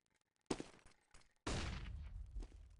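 Counter-Strike gunfire from a competitive match, a sharp shot followed after a short gap by a sustained burst of rapid fire, fairly quiet overall.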